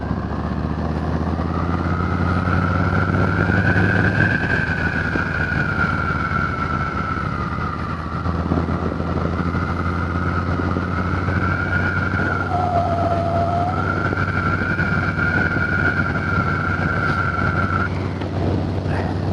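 Riding a 2020 Harley Softail Standard on the road, a loud steady roar of wind buffeting mixes with the rumbling engine drone, holding constant with slight shifts in pitch throughout.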